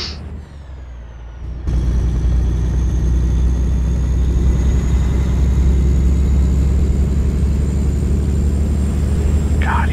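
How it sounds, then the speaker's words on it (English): A loud, steady engine rumble with a low throbbing straight-pipe car exhaust note in a video game starts abruptly after a quieter opening and drones on without a break. "Hear them straight pipes, boy."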